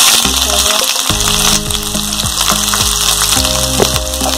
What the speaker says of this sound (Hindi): जब तेल गर्म हो जाए तो इसमें ये जीरा और मेथी डाल देंगे, साथ ही तेज पत्ता भी ऐड कर देंगे